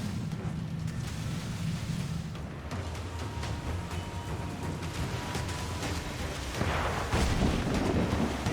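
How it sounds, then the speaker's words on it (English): Mortar fire in a pirate video game: continuous low rumbling booms and heavy crackling blasts that swell near the end, dense and loud throughout. "Oh, that mortar fire."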